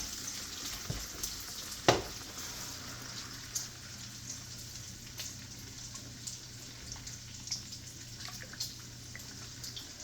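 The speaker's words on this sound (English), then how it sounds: "I gotta give my bacon a bit of a stir here" Bacon frying in a pan while it is stirred, a steady moderate sizzle and crackle with one sharp utensil knock early on and light scraping, no one talking.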